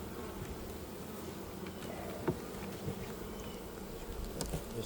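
Honey bees buzz steadily around a hive frame carrying a few small hive beetles, a dense continuous drone close by with a few brief louder passes, and no voices.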